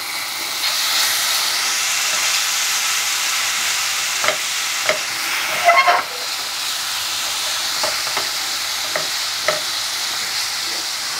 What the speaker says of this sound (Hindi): दही डालने के बाद हम मसाले को तब तक भूनेंगे